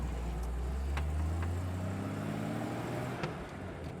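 A 1974 Jeep CJ-5 Renegade 4x4 engine drones steadily at low pitch as it drives, with a few faint clicks and rattles over the running motor.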